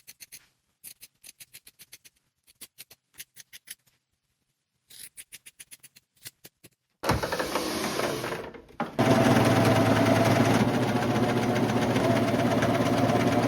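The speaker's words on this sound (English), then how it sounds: "I'm gonna use my serger to go over that raw edge" A serger overlocks the raw edge of a thrifted garment, its motor running in a steady, loud whir for several seconds after a series of short clicks and brief stitching bursts.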